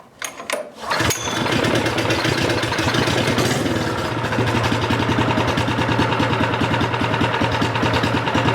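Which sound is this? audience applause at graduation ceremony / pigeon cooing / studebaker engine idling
studebaker engine idling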